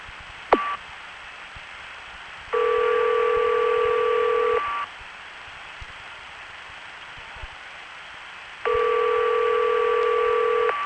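Two long electronic ring tones on a phone line from a coin phone in Greenville, North Carolina, around 1978–1980, each about two seconds, separated by quiet line hiss, after a brief click and beep at the start.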